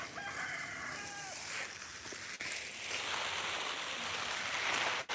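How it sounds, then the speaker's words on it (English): A chicken in a backyard fruit orchard lets out a few brief calls near the start, fairly faint under a steady wash of outdoor noise, with no voices. "Chicken's up to no good."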